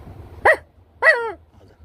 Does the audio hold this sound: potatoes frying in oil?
no